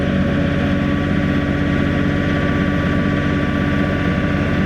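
Engine of a Sany SY35U mini excavator running steadily at raised throttle, a loud, continuous droning diesel hum with an even tone and no pauses, close by and with no talking.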